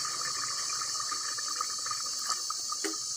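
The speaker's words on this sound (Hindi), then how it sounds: "अब हम इसमें पानी डालेंगे।" Water poured into a pan of fried chickpeas during a chana fry recipe, a steady hissing, splashing pour that runs continuously at close range without talking.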